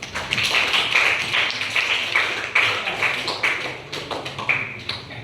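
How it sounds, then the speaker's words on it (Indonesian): A classroom of students applauds, a close, rapid patter of claps that comes in uneven waves and fades toward the end. "Oke, kasih aplaus."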